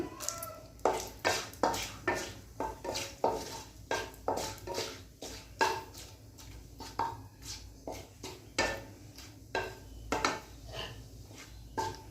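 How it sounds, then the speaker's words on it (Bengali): Dried red chillies and bay leaves frying in a kadai, the faint sizzle mostly buried under repeated close clinks and scrapes of a spoon against the pan in a steady rhythm, with no speech. "তেজপাতা শুকনো লঙ্কা একটু ভাজা হয়ে গেছে"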